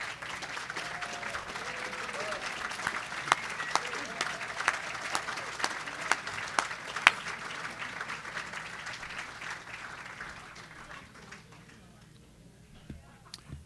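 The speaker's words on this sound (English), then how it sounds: "Would you please stand so we can give you a round of applause?" Applause for standing veterans and military members at a Rotary club Veterans Day luncheon, a long burst of crowd clapping from many hands that gradually thins and fades out over about ten seconds.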